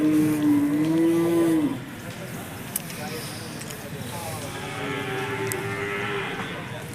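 Buffalo at the Chattiparamba cattle market give two low, drawn-out moos, a loud nearby one followed by a fainter one, over steady crowd chatter and market bustle.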